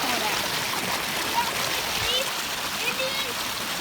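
Rushing water from a waterfall on a flooded creek, a steady broadband roar filling the whole clip close by, with splashing texture and faint voices in the background.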